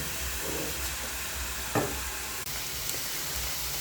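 Beef frying with cumin seeds and red onions in a pan, a steady loud sizzle with scraping stir strokes running throughout, close up and without talk.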